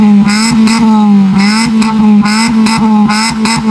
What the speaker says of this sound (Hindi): तो यसन भाई आपको भी गाड़ी की साउंड चेक कराते हैं